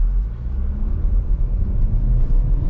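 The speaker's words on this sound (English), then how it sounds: "Okay, we're gonna do the 0 to 60 now." A 2022 Chevy Equinox RS with a turbocharged engine accelerates hard from 0 to 60, its deep, loud, steady rumble filling the cabin without any talk.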